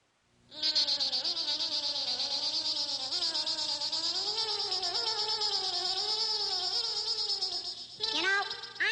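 A mosquito's high, thin buzz whines steadily and continuously at close range for several seconds, holding one droning pitch with slight wavering, then breaks briefly and resumes near the end.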